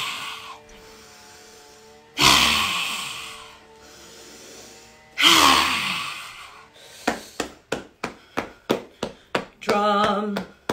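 Two long, deep breaths during a qigong breathing exercise, each a loud rushing exhale, followed by a rapid series of rhythmic taps.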